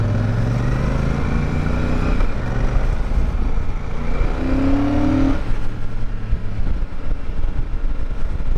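Royal Enfield Super Meteor 650 cruiser with its parallel-twin engine giving a steady, loud mechanical thrum, with a rising rev partway through before settling back to a continuous drone.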